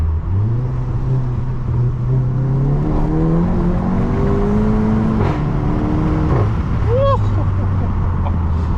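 A loud Volkswagen Golf GTI Mk7.5 engine and exhaust drone steadily while driving, the pitch climbing through gears with brief drops at each shift.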